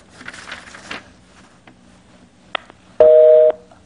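Telephone line noise with a couple of clicks, then a short loud electronic busy tone after the caller hangs up during a Korean stock-investment broadcast call-in.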